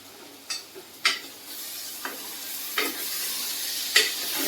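Brinjal pieces fry in oil in a pan with a soft, steady sizzle, broken by a few sharp stirring scrapes and clinks spaced about a second apart.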